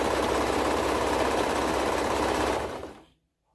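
A serger overlocker runs fast and steadily, stitching toddler hoodie fabric with a dense mechanical buzz and rattle, close and continuous before winding down and stopping near the end, no talking.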